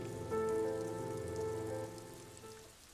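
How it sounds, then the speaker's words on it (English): Steady rain falls across the rainy streets of Revachol in Disco Elysium, a dense hiss of drops on surfaces blended with a low sustained musical drone, fading slightly toward the end with no voices. "All around you, rain falls on the great city of Revachol."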